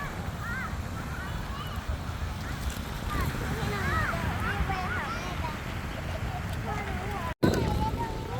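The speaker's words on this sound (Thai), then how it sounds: "ลมแรงครับ" Strong wind buffets the microphone at an international kite festival on a Pattaya beach, a constant rushing roar under a man's speech and nearby voices, with a brief dropout near the end.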